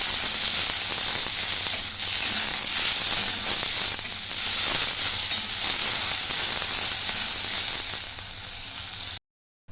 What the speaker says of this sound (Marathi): आता ह्याच्यामध्ये एक छोटासा टॅमॅटो आहे तो पण भाजून घेते